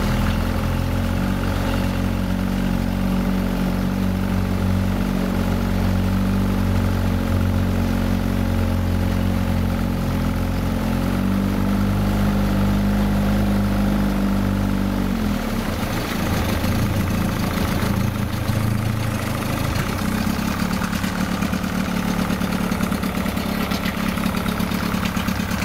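A Yamaha 30hv outboard motor, running on petrol with 2% oil mixed in, runs steadily in gear with a constant loud drone and low throb that shifts in tone partway through, with no speech.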